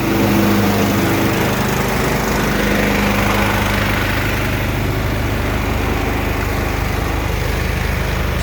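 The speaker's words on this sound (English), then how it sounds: "I hear my compressor idling hard." Air compressor idling hard during the blowing-out of a frozen sprinkler system, a steady loud mechanical drone with continuous hiss, running unbroken and close by throughout.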